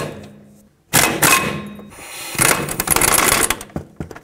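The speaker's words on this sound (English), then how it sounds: "with an 18 millimeter socket, remove these two bolts" Ratchety clicks and clanks of an 18 mm socket on a ratchet loosening the caliper bracket bolts on the front brakes of a 2005-2009 Chevy Equinox, close and fairly loud, coming in short bursts of metallic clatter.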